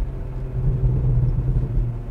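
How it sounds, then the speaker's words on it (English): Porsche Macan GTS with a twin-turbo V6 and sport exhaust gives a steady, deep low rumble, close and fairly loud, holding for about two seconds without talk. "but the sound, the sport exhaust,"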